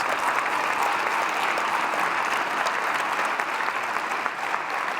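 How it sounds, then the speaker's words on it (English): A large audience gives a loud, sustained round of applause at an evening panel event, dense clapping holding steady from start to finish with no voices over it. "Another big round of applause."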